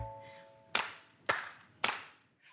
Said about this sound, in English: can you make your hands go clap, clap, clap?